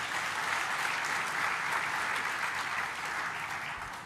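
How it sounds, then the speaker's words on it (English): Warm applause from a conference audience at a medical education opening ceremony, even and sustained dense clapping throughout, moderately loud and unbroken. "Another warm hands of applause to him."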